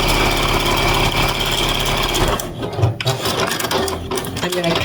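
A sewing machine stitching quilt block pieces for a snowman quilt, a rapid steady mechanical whir for a little over two seconds, then stopping into quieter handling sounds.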